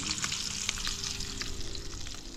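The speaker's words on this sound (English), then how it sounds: "Really simple today, bacon and egg. Cooking on the old Coleman stove this time" Bacon and egg sizzle and crackle steadily in a pan on an old Coleman camp stove at a tent campsite, a close, continuous frying hiss with small pops throughout.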